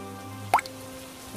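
A single drip of rainwater falls inside a bamboo hut during heavy rain, making one short, bright plop over a steady low hum.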